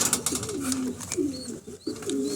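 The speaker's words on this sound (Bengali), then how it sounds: "এটা মূলত বাঙ্গা পারভেজ লফটের কবুতর" Pigeons in a flying and breeding loft give repeated low, rolling coos in short bursts, close and clear, with faint rustling and higher chirps between the calls.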